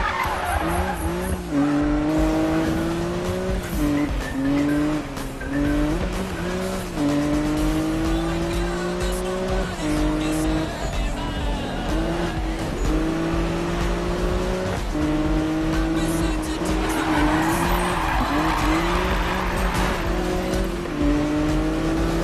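Cars race in Need For Speed (2015): engines roar loudly and continuously, rising and falling in pitch through gear changes, with tire squeals and skidding layered throughout.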